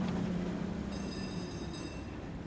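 Video-game train heard as a steady, loud rumbling roll with a low droning hum, and a faint high metallic whine joins partway through. No one speaks.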